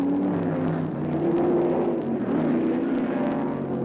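Ford, Ferrari and Chevrolet-powered 427 cubic inch prototype race cars at a race start, a dense rumbling roar of several engines with overlapping revving tones, loud and sustained.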